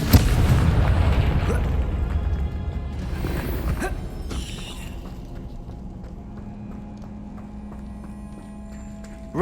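Confringo blasting spell explosions in Hogwarts Legacy, a loud booming blast with rumbling debris that fades over several seconds into low game ambience and a steady hum, no talking.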